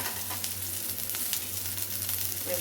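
Onion, garlic, dried red chillies and a slit green chilli sautéing in a pan, a steady close sizzle with a few faint stirring scrapes.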